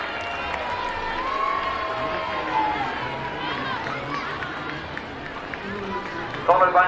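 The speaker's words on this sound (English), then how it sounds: "A cheer for the bees and the ladybugs behind them." Crowd noise along the route of the 2007 Lanimer procession, with people chattering and a brief burst of cheering near the end, all under a steady wash of speech.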